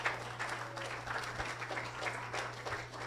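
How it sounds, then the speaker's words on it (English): A congregation at a Sunday morning church service claps steadily together, moderately loud and continuous, with a low hum running underneath. "Give the Lord a big clap this morning."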